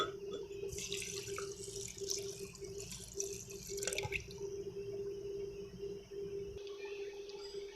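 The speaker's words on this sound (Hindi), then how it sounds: "अब हम इसमें दूध डाल लेंगे।" Milk being poured into a mulberry shake, a steady liquid trickle and splash at close range that runs a few seconds and then stops, over a faint constant hum.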